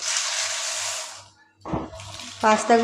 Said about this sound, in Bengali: এবার আমি এর মধ্যে দিয়ে দেব পাস্তাগুলো